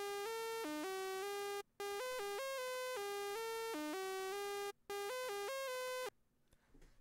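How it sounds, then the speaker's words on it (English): A raw Serum saw wave with glide and portamento, played dry, slides between notes in a bright, buzzy synth melody with two brief gaps, then stops abruptly into near-silence. "This is a saw wave with some glide on it, some portamento"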